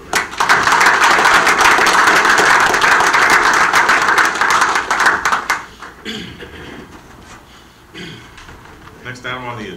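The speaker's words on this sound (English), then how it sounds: "Another round of applause for" Loud applause from a meeting audience fills the first half, dense and steady, then fades by about six seconds into quieter room noise with some talk.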